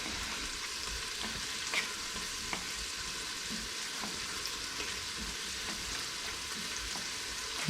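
Mussels are stirred in a frying pan, giving a steady close sizzle with faint scraping clicks from the stirring, continuous and even at moderate level with no voices.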